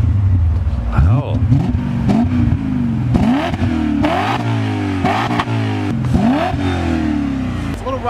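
A 2001 BMW M5 engine revs repeatedly nearby, its exhaust rising and falling in short bursts over a deep, rumbling idle.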